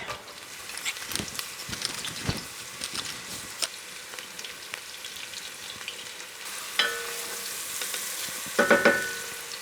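Shallots and garlic sizzle steadily in a pot, a dense crackling fry broken by a few sharp stirring clicks and scrapes, growing louder toward the end.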